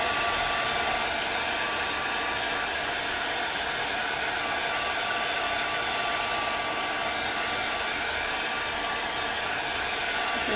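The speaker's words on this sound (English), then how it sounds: "Now let's do a quick dry with a hairdryer." A handheld hairdryer blows a steady, loud stream of air to dry mica mist spray paint, a continuous even whoosh with no pauses.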